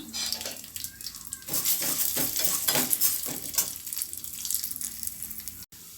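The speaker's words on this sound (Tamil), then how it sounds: "அந்த உளுந்த பருப்பையும் நம்ம இதில் போட்டு நல்லா கோல்டு கலராக வறுத்துக்குருவோம்" Urad dal is dry-roasted in a pan to make a chutney. Close stirring and scraping make a steady gritty rattle at moderate level, ending in a brief dropout.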